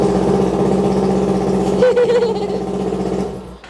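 A straight-piped Kawasaki Ninja 400 ABS with its stock exhaust torn off in a crash runs indoors, a loud, steady raspy idle with a brief blip of revs midway before it dies away at the end.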